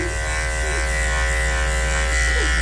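Electric dog grooming clippers fitted with a clipper blade run with a steady, loud mechanical buzz, holding a constant hum for the full few seconds with no voices.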